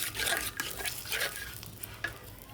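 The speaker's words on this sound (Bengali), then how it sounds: "এখন ভালোভাবে কষিয়ে নিব।" A spice paste for tengra fish kalia is stir-fried in a pan, a soft, steady sizzle broken by scraping strokes and light clinks of a spatula against the metal.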